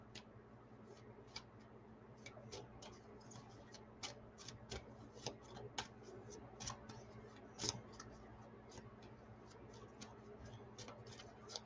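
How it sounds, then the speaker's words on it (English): A deck of tarot cards shuffled by hand, a steady run of soft, quick card taps and flicks over a low background hum, no speech. "I want to shuffle the cards."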